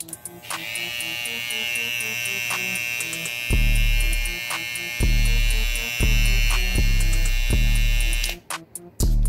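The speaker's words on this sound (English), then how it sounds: "Let me know which one of the clippers, the trimmers that sounds louder that you hear, okay? Babyliss Pro FX Skeleton or the Andis TI liners." Two cordless hair trimmers, a BaByliss Pro FX Skeleton and an Andis T-Outliner, buzz loudly together with a steady high whine and a hum, the second one switching on and off in repeated bursts.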